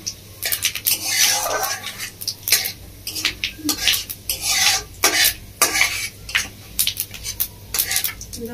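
Whole spices frying in hot oil as a tempering, stirred with a metal spoon that scrapes and clinks repeatedly against the pan over a faint sizzle, close and rhythmic.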